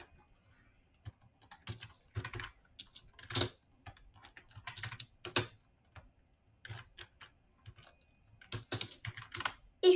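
A name typed on a computer keyboard while installing Windows XP in VirtualBox: quick, close key clicks in short irregular runs separated by brief pauses, with no voice.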